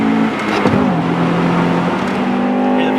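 A Honda-built Acura Integra Type R engine revving high into VTEC, a loud sustained howl that dips briefly then holds a steady high pitch, heard from inside the car.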